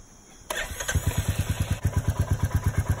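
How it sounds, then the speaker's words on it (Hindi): A Royal Enfield Meteor 350 motorcycle in Stellar Red cranks and fires, then settles into a loud, close, steady thumping single-cylinder idle with an even rhythmic beat. "let me start the bike now"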